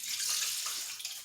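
Water pours steadily into the pot of a fruit saver steam canner, a close, continuous splashing hiss that holds even for a moment and then tapers slightly.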